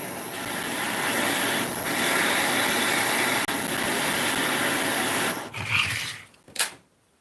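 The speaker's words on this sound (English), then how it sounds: "this would be butane with a little piezoelectric" Butane torch lighter with piezo ignition burning in a steady roaring hiss during leatherwork on a mini trunk handle, then cutting off with a few brief bursts and a final sharp puff before silence.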